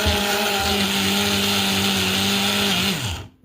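Small kitchen blender grinding seeds for plant milk, a steady high-pitched motor whine running continuously for a few seconds before winding down and stopping.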